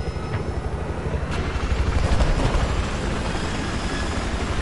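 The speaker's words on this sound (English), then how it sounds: "Yo, I got an helicopter." A helicopter in the video game Battlefield roars close and loud, a dense rumbling rotor and engine noise that swells slightly in the middle and holds steady, with no talk.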